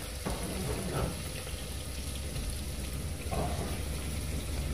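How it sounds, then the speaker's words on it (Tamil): Onion and green chili frying in oil with cumin and fenugreek, a steady soft sizzle running throughout with faint stirring scrapes, close and fairly quiet. "ஸோ வெங்காய பச்சை மிளகா கூட நல்லா வதக்கணும் எண்ணெயில்."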